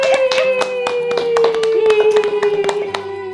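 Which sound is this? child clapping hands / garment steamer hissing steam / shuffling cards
child clapping hands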